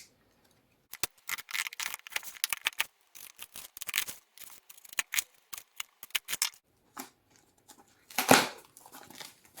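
Packaging for two Gan and MGC speed cubes is opened nearby with bursts of crinkling, tearing and rustling plastic and cardboard, irregular and intermittent, with a louder rip toward the end and no speech.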